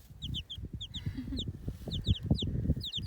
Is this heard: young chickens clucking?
yes